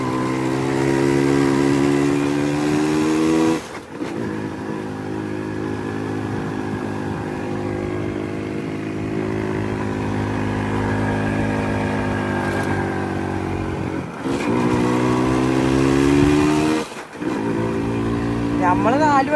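Four motorcycles ride together on a rainy-season trip: two Yamaha RX, a Max and a Pulsar. Their engines drone loudly and steadily with throttle swells, broken by a few short dips and gaps.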